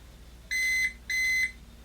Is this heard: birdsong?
no